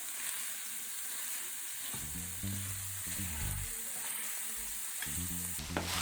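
A vegan sauce simmering and thickening in a pan gives a faint, steady sizzle and bubbling, with several soft scraping stirring strokes near the end.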